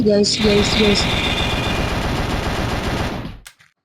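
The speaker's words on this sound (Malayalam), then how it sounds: "ഇനി നമുക്ക് ഈ തോക്കെടുത്ത് കളിച്ച് നോക്കാം ഗൈസ്" Rapid automatic gunfire in the Mini Militia video game, a dense burst of shots lasting about three seconds before cutting off abruptly, loud and close.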